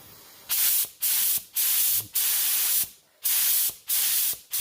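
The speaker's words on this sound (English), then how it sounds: "that's a nice spray pattern for me not doing any adjusting on it" A Harbor Freight HVLP spray gun hisses in six short bursts of roughly half a second each, separated by brief pauses, loud and close.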